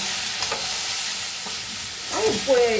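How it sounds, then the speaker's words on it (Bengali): Unripe jackfruit coated in gram flour sizzles in hot oil while a utensil stirs and scrapes the pan, with a few sharper squeaky scrapes near the end. "এই দেখো কেমন ভাজা হয়ে আসছে।"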